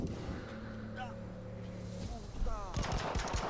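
Gunfire from the video game Narcos: Rise of the Cartels comes as a quick burst of crackling shots near the end, after a stretch of droning game music and tones.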